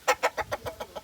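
Chickens at a small rural poultry farm give a quick run of about seven clucks. Each is a little softer than the one before, and they come close and clear with no talk.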